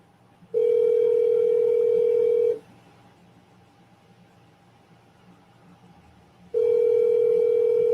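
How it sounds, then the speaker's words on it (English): A phone line rings out with two long, steady tones separated by a silent pause, waiting for someone to answer. "Come on, pick up the phone"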